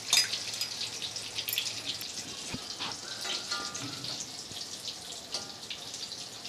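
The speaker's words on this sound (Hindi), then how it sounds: "आलू के भजियों को भी अपने को बादामी कलर के तलना है अच्छे से।" Potato bhajiyas, battered fritters, frying in hot oil until golden brown: a soft, steady sizzle with faint crackles and pops, quiet and continuous with no talk.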